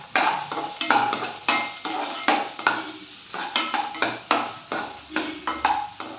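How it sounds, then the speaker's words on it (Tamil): Green chilli and garlic with onion sautéed in a pan for garlic spinach, a spatula scraping and knocking against the metal in a steady rhythm of repeated strokes, close and fairly loud, with no one talking. "இங்கே பச்சை மிளகா, பூண்டு நல்லா மூணி போட்டு நல்லா வதக்க வேண்டியது."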